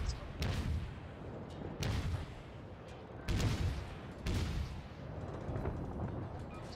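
Heavy naval guns on an enemy ship in World of Warships boom out in several deep, rumbling salvos that roll into each other, loud and fairly close, with a continuous low battle drone between blasts.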